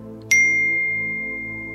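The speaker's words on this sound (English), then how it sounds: "You have received a new text message" A phone text message notification sounds a single bright ding that rings on and slowly fades, heard over a steady low background hum.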